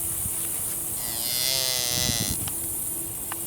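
A lone calf in an open field lets out one long, loud, drawn-out moo that rises and falls over a couple of seconds, over a steady outdoor buzz of insects and wind.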